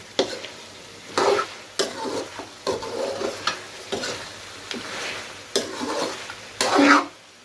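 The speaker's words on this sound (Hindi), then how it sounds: "4-5 अदद ग्रीन मिर्च साबुत ऐड कर देंगे। ये देखिए माशाल्लाह फ्राई हो चुका है।" Beef with whole green chillies fries in a pot for kaddu gosht, with repeated scraping stirs and bursts of sizzling heard close up and no speech.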